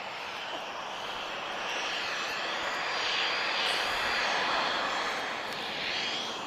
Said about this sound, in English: So TAP Express, guys, she's off to Madeira's TP1691. We're looking at an E190 long range.